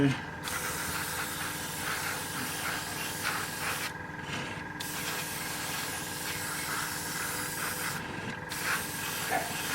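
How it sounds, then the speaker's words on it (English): An airbrush spray gun hisses steadily while paint is applied around the gun and underside of a scale model, a continuous close airy spray broken by a few short pauses. "spray a little in behind that gun, up underneath there"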